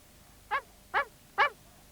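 A small cartoon dog named Bumpy barks three times in quick, evenly spaced yaps, each short, bright and close, with quiet gaps between.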